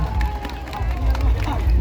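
Audience at a Lao rocket festival applauds in a dense burst of clapping mixed with crowd murmur, loud and close, lasting a couple of seconds.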